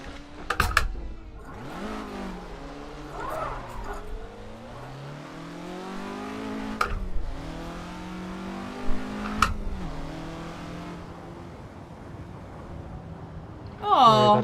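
In the Assetto Corsa racing simulator on the Nordschleife, a car engine revs up and down in rising and falling sweeps, with brief clicks and knocks scattered through and a loud burst at the end.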